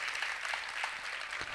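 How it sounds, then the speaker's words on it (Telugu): A congregation at a Christian church service claps steadily, a dense, even patter of many hands heard from some distance and fairly faint, with no talking over it. "కొట్టండి చప్పట్లు గట్టిగా."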